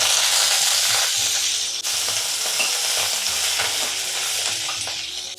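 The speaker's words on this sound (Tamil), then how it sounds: "இப்போ இந்த எண்ணெயிலே வந்து ரசத்தை தாளித்து வச்சிடலாம்." Mustard seeds, dried red chillies and curry leaves tempering in hot oil for rasam, a loud continuous crackling sizzle with spluttering pops and a few stirring knocks, no voices.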